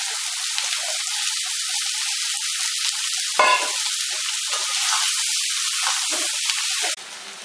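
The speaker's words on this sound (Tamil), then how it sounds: "இதை நல்லா வதக்கணும்." Onions with mustard seeds sautéing in oil for an onion pickle, heard as a continuous close hiss of frying with a brief stirring scrape partway through, cutting off abruptly near the end.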